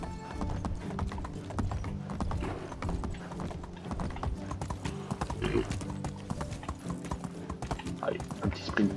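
Horse hooves clip-clop steadily in the Medieval Dynasty game as a rider travels along, a brisk, continuous trotting rhythm with occasional creaks and a faint whinny.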